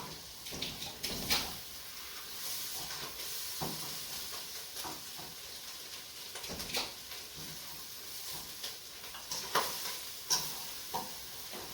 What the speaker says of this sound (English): so I mix it